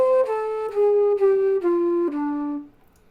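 Six notes of a blues scale step downward one after another on a pitched instrument, each clearly attacked and ringing with rich overtones, with the last note held and fading out.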